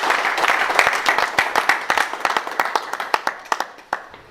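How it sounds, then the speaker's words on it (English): A burst of audience applause, many hands clapping quickly and steadily, moderately loud, gradually thinning out toward the end. "Let's give ourselves a round of applause for this."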